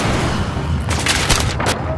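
Gunfire in the shooter game Battlefield 3, a burst of sharp cracks and booming reports in quick succession, loud and close over a dense din of battle.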